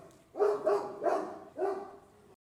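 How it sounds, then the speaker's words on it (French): A dog barks four times in a slow, uneven series, deep and somewhat muffled, with quiet background between the barks. "j'entendis au loin, sur la lande, l'aboiement affaibli d'un gigantesque molosse"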